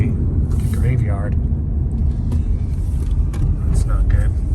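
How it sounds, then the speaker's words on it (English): An old van called Vicky drives along with a low, constant engine and road rumble heard from inside the cabin, and a voice speaks briefly over the noise. "last drive in old Vicky the van"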